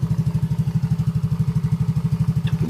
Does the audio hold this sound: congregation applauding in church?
no